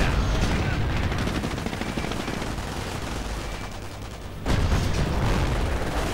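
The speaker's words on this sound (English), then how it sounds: "looks like the Wehrmacht quarters are getting blown to bits by all this British armor" In a WWII strategy game, British armor fires on Wehrmacht quarters: a dense barrage of overlapping gunshots and booms, with a brief lull before another loud burst of fire.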